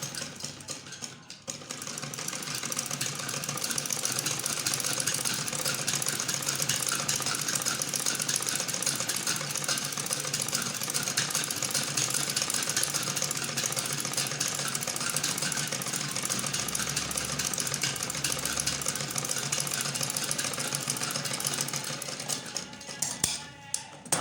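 A sewing machine runs steadily for about twenty seconds, stitching a seam on a ladies' kameez, a close, even mechanical whir with no talking over it.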